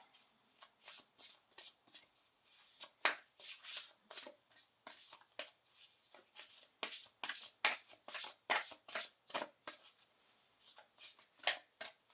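A deck of Spellcasting Oracle cards is shuffled by hand in a steady run of quick riffling bursts, repeated over and over close up, with no voices.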